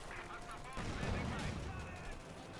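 Machine gun fire from a Panther tank mowing down advancing Allied infantry in a Company of Heroes 2 battle: rapid, steady bursts over a continuous din of battle that swells louder midway.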